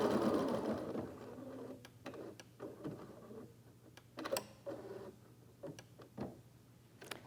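An embroidery machine stitches a short placement line for a ribbon on a USB fob in the hoop, giving quiet rapid mechanical whirring and a series of sharp clicks and taps.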